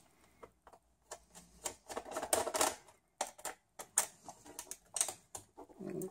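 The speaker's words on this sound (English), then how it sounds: "So let's unscrew that." Screws being removed from a Compaq Armada 1520 laptop, heard as a series of close, sharp clicking and ticking bursts in irregular clusters with short quiet gaps between them.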